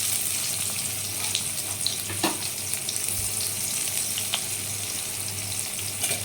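Chopped onions sizzle steadily in hot oil with browned garlic in a pan, a continuous close hiss with a few brief clinks of stirring.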